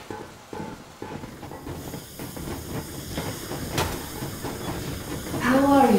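A steam train in the video game Metro Exodus gives off a continuous hiss of steam over a rolling clatter. There is a sharp burst partway through, and the sound grows louder near the end with a whistling squeal.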